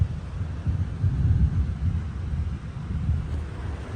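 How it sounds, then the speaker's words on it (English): A thunderstorm in Malaysia brings deep, rolling thunder that swells and fades in low rumbling waves, mixed with gusty wind noise and no voices. "now it's decided to chuck it down, thunder, lightning"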